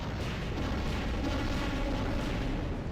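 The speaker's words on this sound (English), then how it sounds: "That was a big explosion." A big explosion in the Dynamite Cop video game, a dense, sustained low rumble and roar that stays loud and steady throughout, with no voices over it.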